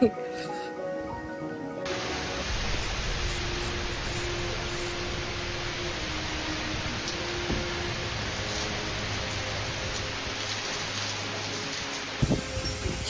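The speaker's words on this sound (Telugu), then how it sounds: "గాలి వాన ఉరుములు మెరుపులు" Steady, dense broadband roar of wind-driven rain in a thunderstorm filling the whole stretch, with a brief clatter near the end.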